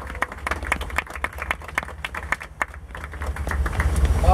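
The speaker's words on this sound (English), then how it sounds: "Everybody give Ichabod a round of applause." Passengers on the Frisco Silver Dollar Line excursion train at Silver Dollar City break into scattered, crisp clapping for several seconds, while a low engine rumble builds underneath toward the end.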